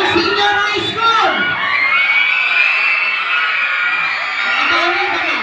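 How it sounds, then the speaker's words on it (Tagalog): A crowd of senior high school students at a school taekwondo meet shouts, whoops and cheers loudly and continuously, with rising yells and overlapping voices close by. "Ihatid na sigawan ng senior high school."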